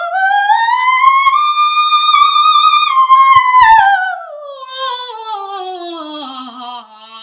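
A solo soprano voice sustaining a smooth sliding line, rising gradually and then falling back down, clear and close with no accompaniment or talk.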